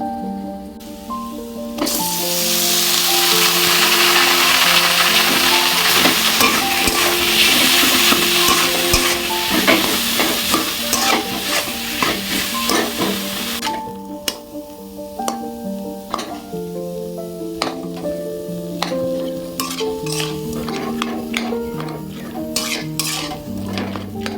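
Boiled cauliflower and tomato stirred with spices in a pan for a Bengali cauliflower vorta, starting with a strong hissing sizzle that eases into repeated scraping and clinking of the spatula, with music in the background.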